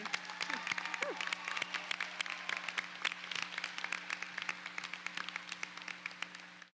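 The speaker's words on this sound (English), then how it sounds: "I think you deserve another round of applause" Audience applause at a college commencement ceremony, with steady clapping from a crowd that fades slightly toward the end, plus a faint whistle early on.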